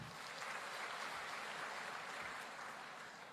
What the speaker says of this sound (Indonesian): Terima kasih dan tepuk tangan juga untuk beliau tentunya